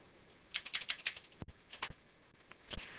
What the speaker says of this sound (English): I could go to my browser and type in the URL.